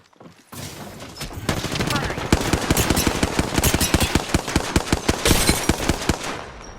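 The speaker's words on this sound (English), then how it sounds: "The enemies are shooting." Rapid automatic gunfire in the game Apex Legends, a dense fast run of sharp loud shots lasting several seconds after a brief quiet start.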